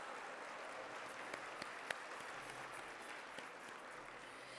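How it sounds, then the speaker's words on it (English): An audience at a women's luncheon in a banquet hall applauds, a dense, steady wash of many hands clapping at a moderate distance that continues evenly for several seconds with no talking over it. "Give yourselves a round of applause."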